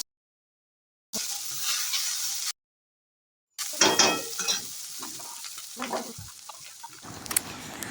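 Bitter gourd fries in ghee in a pan, a steady crackling sizzle with stirring scrapes, broken by two short silent cuts, then continuing close and moderately loud.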